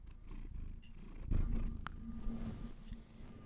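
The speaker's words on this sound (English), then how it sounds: "But listen to this guy purr." A cat purrs close by in a steady low rumble under quiet room noise, with a soft background tone and a few faint clicks.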